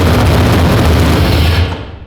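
A V8 engine swapped into a Nissan S14 fires up with a loud, close, rough roar that holds steady for under two seconds before tapering off.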